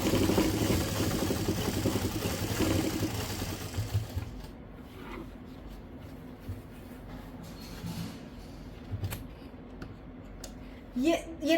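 A sewing machine stitches elastic into palazzo pants, running in a steady mechanical whir for about four seconds, then stopping to quieter handling clicks and occasional small sounds, with someone speaking over it.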